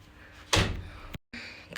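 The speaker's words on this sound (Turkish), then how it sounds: "Kaç kaç kapat kapıyı." A door slammed shut in a house, one loud close thud followed by a short sharp cutoff and faint room noise afterward, with no talk.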